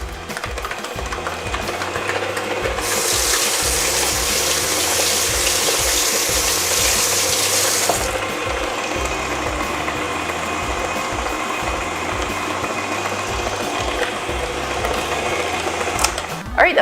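A stand mixer whirs steadily at medium speed while beating buttercream icing in a bowl, a continuous close mechanical drone with a rhythmic motor pulse, joined partway through by a bright hissing wash, with no voices heard.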